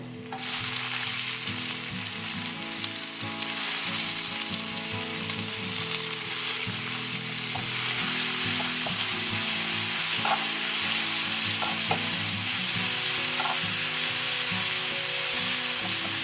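Onions sautéing in hot oil with garlic for a Tamil-style egg masala, giving a steady close sizzle and crackle throughout, with occasional stirring and no talk.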